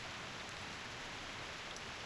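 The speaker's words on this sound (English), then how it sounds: "The rain is getting heavier." Steady rain falling in the video game Reverse 1999 at a campsite, a continuous even hiss of drops with no talking.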